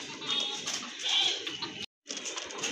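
Pigeons in a loft, soft low cooing and bird calls under steady background noise, with a brief cut to silence before the sound resumes.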